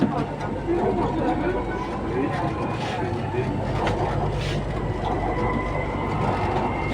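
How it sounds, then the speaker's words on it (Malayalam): A train rumbling along outside, a steady loud rolling roar with faint wheel clatter, while people talk over it nearby. "പുറത്ത് ട്രെയിൻ ഉണ്ട്"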